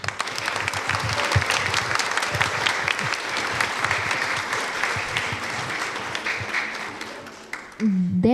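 A school audience gives sustained, dense applause after a student's chess presentation. The clapping is loud and even for several seconds and ends in a short burst of noise at the close.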